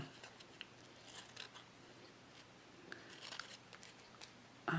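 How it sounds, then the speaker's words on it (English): Scissors snip in short, uneven bursts while fussy cutting around a chipboard journal piece, close up and fairly quiet, with no talking. "kind of feel out where the edges are, and fussy cut around it."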